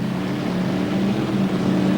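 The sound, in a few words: drag racing car engine revving at the staging beams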